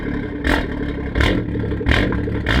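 A BMW 140i with 60,000 km rumbles close behind the car, its engine and exhaust surging in three sharp revs over a constant deep drone, with no talking.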